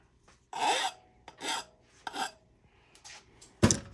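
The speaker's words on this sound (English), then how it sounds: "using the file because it's aluminum" An aluminum part is worked with a hand file, giving four or five separate rasping strokes at an uneven pace, each close and fairly loud, ending with a sharp metallic knock.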